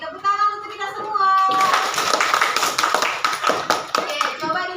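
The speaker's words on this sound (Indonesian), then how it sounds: "Oke, tepuk tangan untuk kita semua" A class of children in a classroom claps together in a sustained burst of applause, following a brief sung or chanted phrase.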